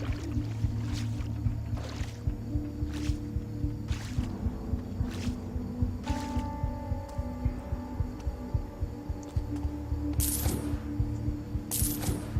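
Rhythmic watery splashes repeat about once a second, like wading through water in the video game Thief, over a low steady hum with a few brief chiming tones.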